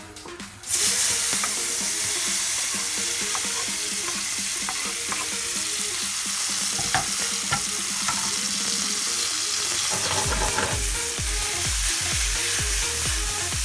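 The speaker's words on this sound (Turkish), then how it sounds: "tavamıza mantarı ilave ediyoruz" Mushrooms hit a hot pan and burst into a loud, steady sizzle that continues throughout, with occasional scraping and stirring knocks, while mushroom soup is being made.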